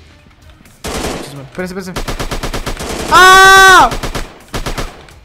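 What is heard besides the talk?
gunfire from a gun in a video game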